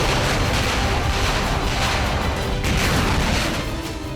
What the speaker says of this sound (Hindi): डोनेस्क से आए इस वीडियो में रूसी सेना की आर्टिलरी यूक्रेन के सैन्य ठिकानों पर ताबड़तोड़ अटैक कर रही है।